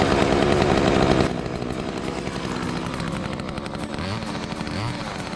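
An old chainsaw, freshly revived after decades unused and started on the first pull, runs close and loud, a buzzing two-stroke drone that drops from a higher rev to a rough, fluttering idle.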